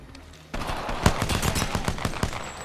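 Rapid gunfire in the Apex Legends video game, a dense burst of repeated sharp shots that starts abruptly and keeps going loud and close for a couple of seconds with no speech.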